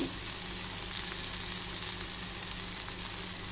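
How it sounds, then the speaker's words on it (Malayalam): Small shallots frying with green chili, turmeric and chili powder in a pan for onion sambar, a steady close sizzle running unbroken and alone, with no talk. "ചെറിയ ഉള്ളി നല്ലോണം വഴണ്ട് വരണം."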